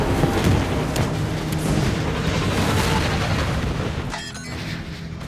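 Battleship guns firing in the Battleship video game, heavy booming blasts rolling one into another in a loud, continuous barrage that thins out toward the end.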